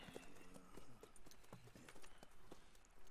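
Horse hooves clip-clopping at a steady walking rhythm in Red Dead Redemption 2, after buying a new horse from a stable dealer, with a brief whinny-like note early on and no talk over it.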